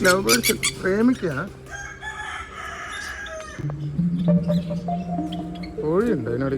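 Chickens cluck and a rooster crows repeatedly at a nature agro resort near Bangalore, the calls loud and close, with people talking over parts of them.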